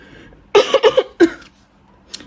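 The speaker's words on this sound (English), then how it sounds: "This cough, it's dry and it hurts my throat." Several dry coughs from one person burst out close and fairly loud in a tight cluster, followed by one more cough after a pause and then a faint rasp near the end.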